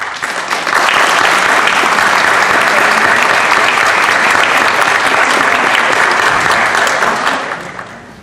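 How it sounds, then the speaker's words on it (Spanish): Sustained audience applause greeting a speaker at a criminal procedure code conference, a dense, even wash of clapping that swells in quickly, holds for several seconds and fades at the end. "Lo recibimos con un aplauso."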